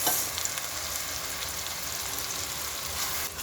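Onions and garlic fry in a pan with salt, a steady broadband sizzle running throughout with soft stirring scrapes, close and fairly quiet, no voices.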